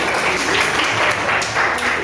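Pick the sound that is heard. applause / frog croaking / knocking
applause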